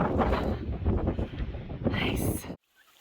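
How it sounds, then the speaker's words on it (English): Strong wind buffets the microphone on a clear morning near Franconia Ridge on an Appalachian Trail summit, a steady rough roar for a few seconds that cuts off abruptly near the end. "so windy."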